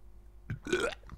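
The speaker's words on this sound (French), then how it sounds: "J'ai envie de roter." A single short, throaty burp, fairly close and moderately loud, sits alone against a quiet background with no talking.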